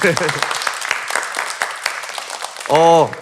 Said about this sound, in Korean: 그럼 우리 좀 그렇게 해주세요라고 하는 좀 응원의 박수